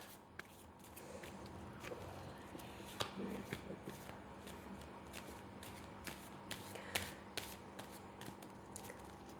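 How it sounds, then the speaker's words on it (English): Tarot cards being shuffled by hand, a continuous soft riffling and papery flutter with scattered sharper snaps, steady and close for the whole stretch with no talking. "one more shuffle"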